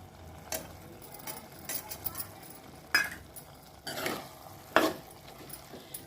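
A spoon stirs a bitter gourd curry in a pan after chili powder goes in, producing soft scraping and light clinks over a faint sizzle. A few sharper knocks against the pan stand out, and quiet voices are faintly present.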